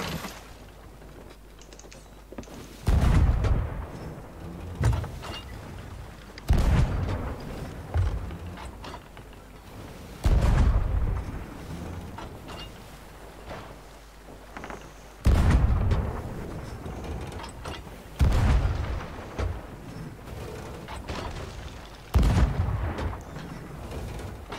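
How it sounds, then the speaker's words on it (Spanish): Cannon shots fired between pirate ships in the Sea of Thieves video game, several loud booming blasts spaced a few seconds apart over a steady background of sea and ship noise. "A ver si acierta algún disparo."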